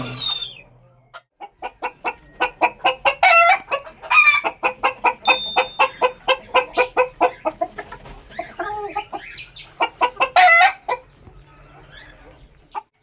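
Chickens cluck over and over on a farm while a rooster calls. The fowl sounds are loud and close, in quick rhythmic bursts that fill most of the clip, with brief pauses between runs.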